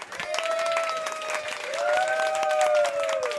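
A crowd at an Ultimate Marvel vs. Capcom 3 fighting-game tournament applauds the winning team steadily for a few seconds, dense clapping with a sustained tone ringing over it.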